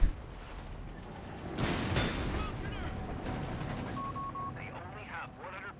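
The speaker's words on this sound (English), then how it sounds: "The machine gun's getting it" Sustained MG42 machine gun fire in the World War II strategy game Company of Heroes 3, crackling bursts with heavier booms mixed in, sitting under a caster's continuous commentary.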